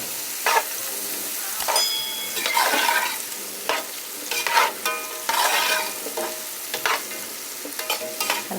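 Chopped onion and pepper sautéing and being stirred in a pan, with a steady sizzle broken by scraping stirs and brief louder crackles, close up and with no one talking.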